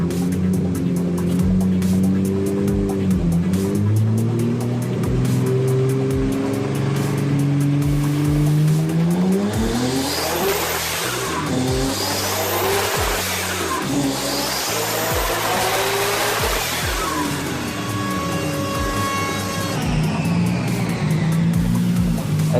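A Nissan Skyline R32 GTR making about 800 horsepower, fitted with a BorgWarner EFR twin turbo kit, revs loudly and accelerates hard. The engine note climbs and falls repeatedly, with some tire squeal and no talking.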